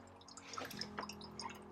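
Water poured from a can into the pot of a dry, crunchy house plant, a soft continuous trickle with a few brief drips, close and fairly quiet, no talking.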